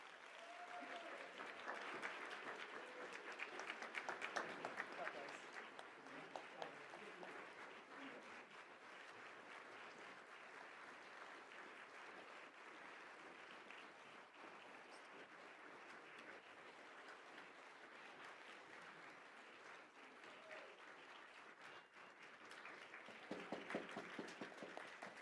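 Sustained applause from a large audience for the 17 finalists on stage at a national laboratory research speech contest, steady and distant-sounding clapping with no talk over it.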